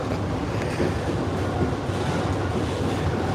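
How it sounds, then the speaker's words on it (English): Steady rumble of a nearly empty passenger train riding the rails through Kuala Lumpur at rush hour on a rainy day, a continuous rolling drone with no voices. "There's nobody in this train, which is surprising for a rush hour."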